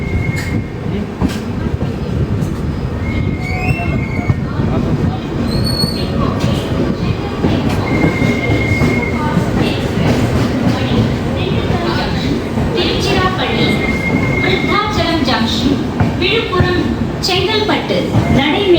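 Pothigai Superfast Express train pulling into platform one at Madurai Junction, with loud steady rumble of wheels on rails, repeated high squeals and clatter throughout, while people talk nearby.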